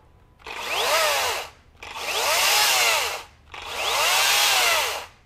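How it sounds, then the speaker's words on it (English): A Makita 18V LXT cordless chainsaw spins up three times in a row, each a loud, steady electric-motor whine lasting over a second with brief pauses between, no voices. "So in about a second, it's up to full speed, and that's what I like about this saw."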